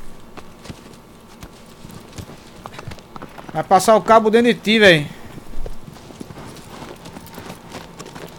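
Horse hooves clip-clopping in the Shadow of the Colossus video game, a steady galloping rhythm running throughout at moderate level, with someone talking over it in the middle.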